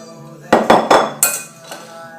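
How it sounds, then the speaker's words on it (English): A metal sifter sieving icing mixture over a bowl gives four or five sharp, bright clinks in quick succession, then a fainter one, close by with no talking. "sift it around, sifting"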